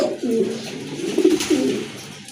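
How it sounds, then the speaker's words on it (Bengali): Pigeons kept for sale at a market cooing close by, several low throaty rolling coos running one after another over a little background noise, with no talk. "আরেক জোড়া কবুতর কোয়ালিটি ফুল এক জোড়া কবুতর"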